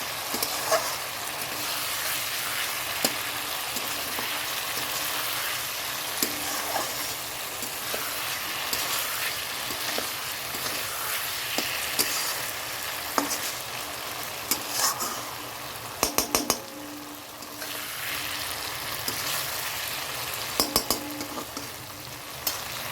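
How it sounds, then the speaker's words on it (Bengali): Nigella seeds (black cumin) crackle and sizzle in hot oil with a dense, continuous frying hiss. Intermittent clicks and scrapes of stirring come through, with a cluster of sharper knocks near the end. "তেলটা দিয়ে কালো জিরে দিয়ে দিচ্ছি"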